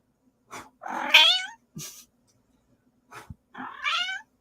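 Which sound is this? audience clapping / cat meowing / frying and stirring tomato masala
cat meowing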